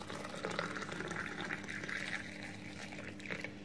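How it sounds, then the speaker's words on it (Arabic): A cup of freshly boiled water poured out, giving a faint, steady liquid hiss and gurgle at low volume throughout. "وهنزل عليها بكوبايه ميه مغليه كده اهوت"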